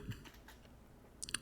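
Typing on a computer keyboard during a live trading stream, a few soft, faint key clicks spread across a second and a half, with a quick cluster of taps at the end.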